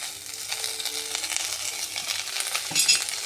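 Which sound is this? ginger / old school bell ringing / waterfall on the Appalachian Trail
ginger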